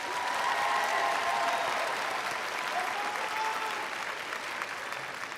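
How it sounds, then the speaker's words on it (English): Sustained applause from a large audience at a high school graduation commencement, an even wash of many hands clapping that fades slightly toward the end, with no talking over it. "Let us please give these students and staff another round of applause."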